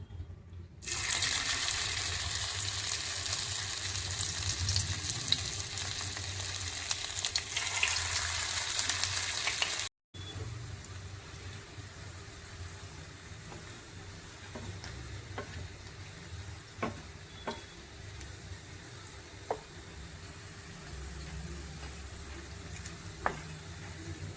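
Manchurian balls dropped one by one into hot oil bubble and sizzle with a strong, steady crackle for about ten seconds, then a quieter simmering hiss with occasional light clinks.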